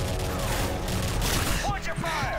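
Gunfire from Modern Warfare 3 Spec Ops comes as a dense, continuous stream of shots with game effects, and a voice briefly speaks through the noise.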